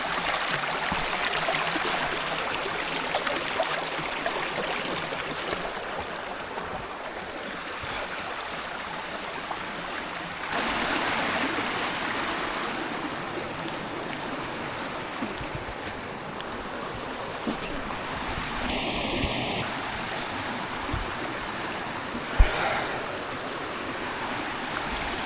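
A rushing stream and a waterfall off-trail at Hendre'r Mynydd give a steady broadband roar of flowing water close by, continuous for the whole stretch with no talking.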